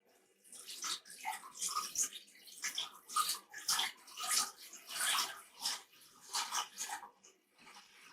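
Water is poured in repeated bursts onto wood ashes in a container while birch lye is being made, giving a close, splashy gurgle that rises and falls in several pulses.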